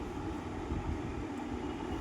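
Commuter train pulling into Bhayandar station, a steady, dense rumble of wheels and rail noise filling the platform without pause, fairly near and constant in loudness.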